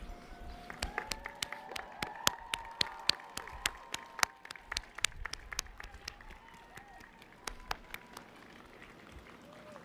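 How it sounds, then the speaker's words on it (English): Graduates at a 2024 college degree ceremony applaud faculty, friends and family: scattered, sharp hand claps rise and fall across a big hall over a murmuring crowd, sounding moderately distant and loose rather than a dense roar. "stand up and turn around and give them a round of applause"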